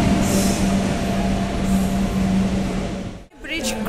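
A train arriving at Raebareli railway station, seen from a footbridge, a loud steady rumble and rolling wheel noise that continues throughout, cut by a short dip near the end.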